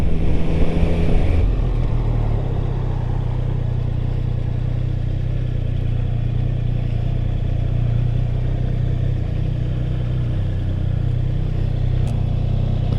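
A 2023 Triumph Street Triple RS motorcycle engine runs with a steady low drone and wind noise, holding a fairly constant pitch, loud and close throughout.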